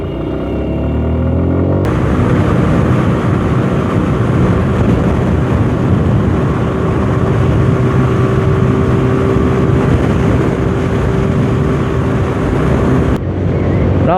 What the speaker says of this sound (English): I am riding at 100 and that is good enough for 150cc bike.